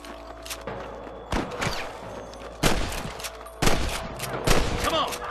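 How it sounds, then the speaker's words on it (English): Sniper rifle shots in Red Dead Redemption ring out as four or five sharp, loud cracks spaced about a second apart, each with a short echoing tail over low background ambience. "Damn fine shooting, boys."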